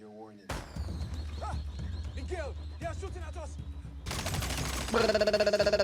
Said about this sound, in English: In 5 seconds, you will hear a gunshot.